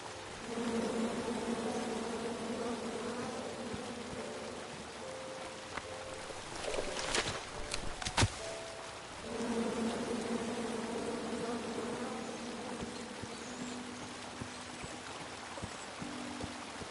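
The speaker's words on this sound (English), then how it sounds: "Come at me, bees!" Bees buzz in a continuous, close drone from the video game King's Quest, with a brief break in the middle filled by a few sharp clattering hits before the swarm hum resumes.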